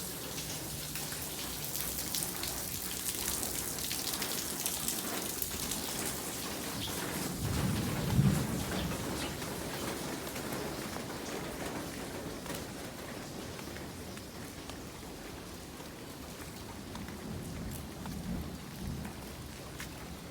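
Steady rain and distant rolling thunder around an old ancestral house during a power outage, with a constant wash of rainfall and a louder thunder rumble swelling near the middle before fading back into the downpour.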